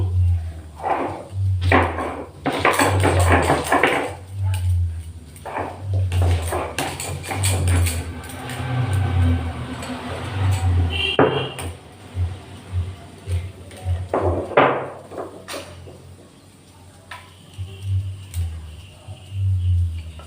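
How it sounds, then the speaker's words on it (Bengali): Garlic being ground on a stone grinding slab (shil) in a home kitchen, with a steady rhythmic rubbing and knocking of the stone close by, repeating throughout with brief pauses. "এখানে প্রথমে আমি রসুনটা বেটে নিচ্ছি শিলটা ভালো করে আমি ধুয়ে নিয়েছি"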